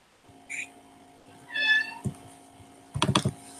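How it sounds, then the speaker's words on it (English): A house cat meows twice, a short call followed by a longer drawn-out one, close and clear, with quick computer keyboard clicks rattling in near the end. "my cat is meowing today."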